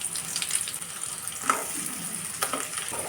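Sliced shallots and garlic sauté in hot oil for a dry prawn and tindora stir-fry, making a continuous sizzle with a few sharp clicks from stirring.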